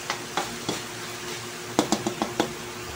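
Pork and carrots sautéing in a pan: a steady low sizzle punctuated by sharp knocks of a utensil against the pan, spaced at first, then in a quick cluster of five or six.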